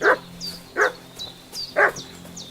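In the video game Kingdom Come: Deliverance II, a dog barks sharply and repeatedly at a steady pace, about three loud barks in quick succession, interleaved with fainter high chirping sounds.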